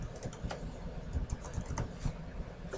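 Typing on a computer keyboard while filling a name box in an MS Word table, with steady, fairly faint key clicks in an irregular rhythm and no talking.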